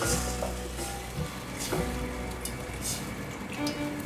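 Curry sauce with soy sauce, white pepper, curry powder, sugar and water stir-fried in a pan, a steady close sizzle and bubbling throughout with occasional scrapes of the spatula.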